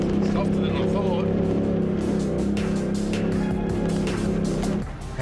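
A black truck's engine revs hard as it climbs a soft, sandy desert hill in the Simpson Desert, a steady loud drone with a low rumble throughout that drops off abruptly near the end.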